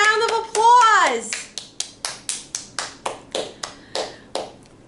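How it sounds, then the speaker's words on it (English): Hands clap in a steady, evenly spaced rhythm of about a dozen crisp claps, following a brief voice, as children at a preschool story hour give a round of applause. "Give yourselves a round of applause."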